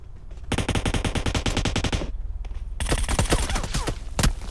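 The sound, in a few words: automatic gunfire in a video game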